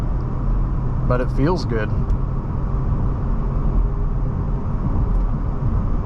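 A car being driven, a steady low engine and road rumble that stays constant throughout, with someone briefly speaking over it near the start.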